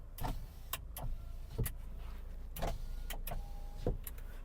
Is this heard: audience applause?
no